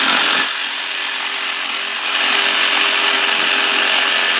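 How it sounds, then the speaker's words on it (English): A power saw cuts plywood to fit around roof braces while building a large shed roof, giving a steady, loud, continuous buzzing whine that dips briefly in level and then carries on through to the end with no talking. "What I'm doing here is cutting out the plywood to fit around all the braces and stuff."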